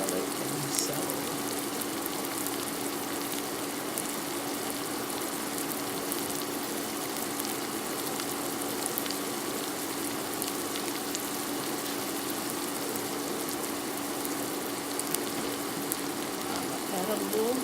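Onions, garlic and celery sautéing in a pan for a seafood boil sauce, a constant soft sizzle and crackle running steadily throughout at moderate level.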